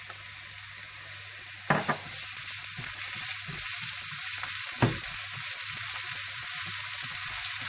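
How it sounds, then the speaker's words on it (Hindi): Finely chopped onions frying lightly in hot oil for tarka dal, a continuous loud sizzle and crackle up close, with a couple of sharp spoon knocks against the pot and no talk. "तेल में आप प्याज हल्के से फ्राई कर लें।"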